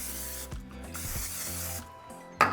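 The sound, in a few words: non-stick cooking spray sprayed onto a baking dish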